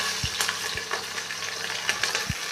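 Garlic and green chilies sizzle in hot oil with a constant dense crackle, punctuated by a few soft thumps of ingredients being stirred, close and alone without talk.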